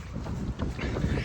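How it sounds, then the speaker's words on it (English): Wind buffets the microphone during a trail run on an exposed ultra 50k course near Georgetown, Texas, a low continuous rumbling roar with uneven gusts that swell and dip throughout. "It's very windy up here."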